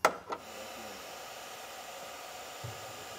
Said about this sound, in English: Now I'll just get my heat gun and shrink this down